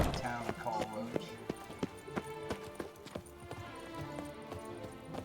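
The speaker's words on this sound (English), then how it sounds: "I'll just get out of town and call Roach" Horse hooves clip-clop in a steady rhythm in The Witcher 3 as the mount called after leaving town trots along, the evenly spaced hoofbeats close and clear over a low game backdrop while a voice talks.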